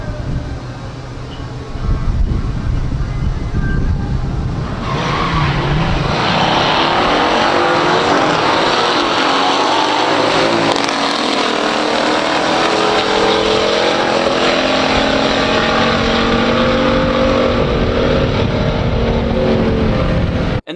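A 1968 Nova SS L89 and a 1965 GTO in a pure stock drag race roar off together, loud engines blaring then a sustained high-revving howl that carries on for the whole run.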